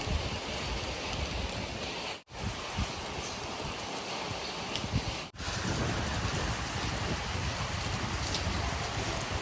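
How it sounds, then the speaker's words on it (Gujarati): Rain falling steadily outdoors, a close, continuous hiss of drops on surfaces that runs the whole time, cut by two brief dropouts, with no talking. "વરસાદ વહીધો પાછો."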